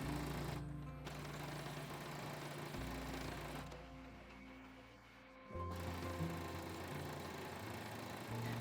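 Sewing machine stitching along both edges of a seam on a halter babydoll dress, a steady close-up motor hum with rhythmic needle clatter that briefly eases and dips before resuming at full pace.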